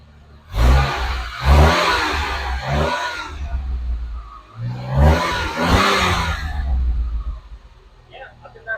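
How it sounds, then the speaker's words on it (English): DeLorean time machine car engine revving in two loud bursts, settling between them into a steady mid-pitched idle rumble, heard close up with no talk over it. "I'll put it on the stand so you can hear the engine"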